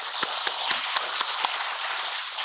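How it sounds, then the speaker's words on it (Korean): A church congregation claps for a few seconds, a dense patter of many hands with a few sharper individual claps standing out, fairly close and without talk. "우리 하나님께 영광의 박수 올려드리겠습니다"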